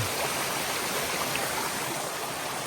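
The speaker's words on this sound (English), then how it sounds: "pretty cool waterfall going down" Water from a waterfall beside a hiking path rushes in a steady, even wash of broadband noise with no breaks and no voices.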